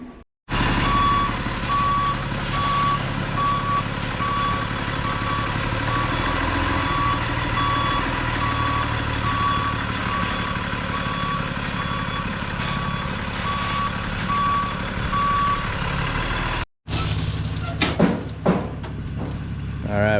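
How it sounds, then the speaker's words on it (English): Gravel truck backing up on a muddy driveway job, its reversing alarm beeping in a steady even rhythm over a rumbling diesel engine for most of the clip, then cutting off before clanking and engine noise. "So let's get this gravel dumped and get the truck loaded."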